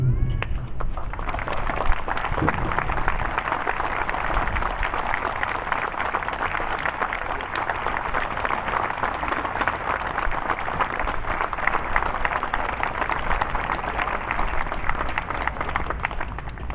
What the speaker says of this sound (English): please raise your hands as we offer a round of applause to you.